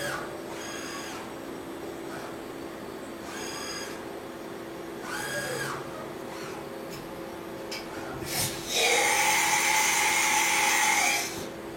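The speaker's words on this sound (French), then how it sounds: "On va venir percer maintenant les 2 trous." A 3+2-axis milling machine drills two holes in a metal part, with a steady machine hum broken by whining bursts as the drill engages, the last one loudest and longest.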